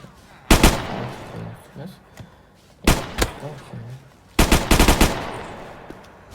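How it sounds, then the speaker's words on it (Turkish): Gunfire at a village military training area: three loud, close bursts of rapid shots, each a cluster of sharp cracks with short echoing tails, separated by quieter gaps with faint movement. "Mesela burada silahınızı alıyorsunuz mesela. Atış ediyorsunuz arkadaşlar."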